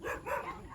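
A dog gives a short, faint bark, heard only briefly at a distance.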